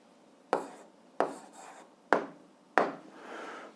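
A pen or chalk sets down an algebra answer in four distinct, crisp strokes spaced about a second apart, close and clear against a quiet background.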